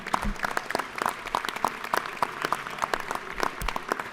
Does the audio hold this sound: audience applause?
yes